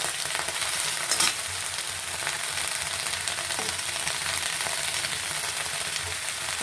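Eggplant fries in hot oil for an Andhra-style eggplant tomato chutney, giving a steady close crackle and hiss with a short burst of stirring near the start.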